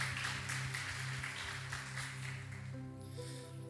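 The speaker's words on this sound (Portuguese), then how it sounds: "Vamos dar uma salva de palmas para Jesus pela vida da Tati." Church congregation clapping at moderate level during a service, steady applause that fades as sustained organ or keyboard tones continue underneath.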